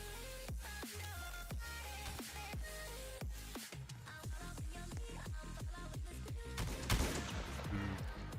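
Repeated gunfire in the video game Enlisted, with sharp shots cracking every half second or so under a constant bed of battle noise and a louder burst toward the end.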